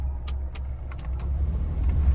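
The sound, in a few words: Maruti Suzuki Alto K10 car engine running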